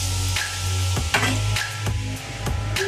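Ghee sizzling and crackling on a hot tawa for aloo paratha, a steady frying hiss broken by repeated sharp scraping or stirring strokes, close and moderately loud with no voices.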